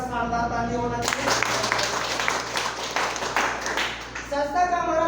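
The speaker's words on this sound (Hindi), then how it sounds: "शानदार ताली होना चाहिए।" Applause from a seated audience at a Hindi-language presentation on income and bonus levels, a dense burst of clapping rising after the first second and fading out after about four seconds, with a voice over amplified room hum.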